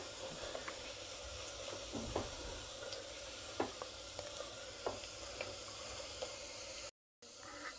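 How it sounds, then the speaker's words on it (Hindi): Makhana and onions fry in oil, taken dark golden for Delhi-style mutton korma. The hot oil gives a steady, fairly loud hissing sizzle with scattered small pops and crackles, cut by a brief silent gap near the end. "इसको भी फ्राई कर लेंगे, प्याज को डार्क गोल्डन कर लेंगे हम।"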